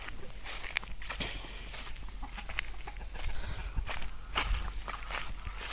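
Free-range village chickens on a poultry farm cluck softly amid scratchy rustling and footsteps on the ground, a busy, low-level barnyard bustle with no one speaking.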